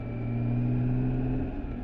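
A BMW K1600GT SE six-cylinder touring motorcycle engine holds a steady, smooth drone at moderate revs, loud and continuous with a slight rise, heard without any talk.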